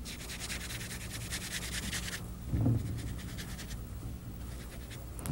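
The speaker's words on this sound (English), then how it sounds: "this rubbing action, so that all that oil is completely mixed into the whole batch of flour" Hands rub oil into flour with a pinch of salt for pastry dough, making a soft, continuous close-up scratchy rubbing with one brief louder thump midway.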